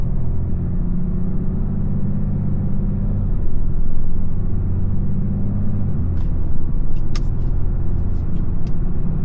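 A steady, low diesel engine rumble from a RAM 3500 Cummins pickup truck cruising along in fifth gear, still a little cold, with road noise and a few faint high clicks near the end; no talking.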